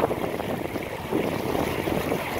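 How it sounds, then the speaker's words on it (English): Strong wind hitting a boat, a constant close rush and low rumble of gusting air with no breaks, alone and fairly loud. "Very windy."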